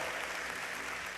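Applause from a congregation during an online church communion service, a steady dense wash of clapping filling the short moment without pause.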